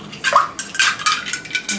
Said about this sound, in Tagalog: Haluin nyo na lang haluin